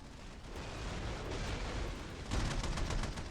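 Fleet weapons fire and explosions during a space battle video game, a continuous dense rumble of distant blasts and gunfire that swells louder in the final second, with no talking.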